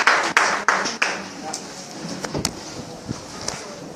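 Congregation clapping in church after a sermon reading, a few sharp, loud claps at first that thin into scattered, fainter claps and room noise, with speech present.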